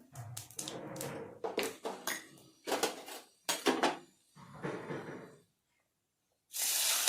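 Safflower greens are added to a pan with cumin and turmeric for sabzi. Clinks and scrapes of utensils are followed by a brief pause, then a loud, steady sizzle as the greens hit the hot oil.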